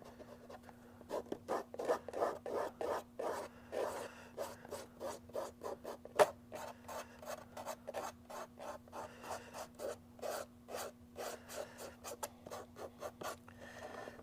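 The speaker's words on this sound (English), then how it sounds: "so I can weather it by sanding it" Wet/dry sandpaper rubs over a model dairy building's roof to weather it, a close, steady run of short back-and-forth rasping strokes with one sharp tick partway through and no talking.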